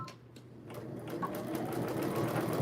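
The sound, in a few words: sewing machine back stitching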